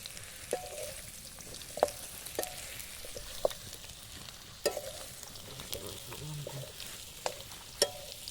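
Meat cooks in a wok at night in a forest, giving a quiet steady sizzle broken by sharp scraping clatters of a stirring utensil every second or so.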